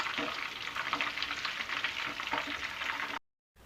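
Chicken leg pieces frying in hot oil, a dense, steady crackling sizzle with occasional bubbling pops, close and continuous before cutting to silence at the end.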